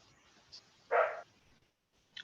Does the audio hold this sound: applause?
no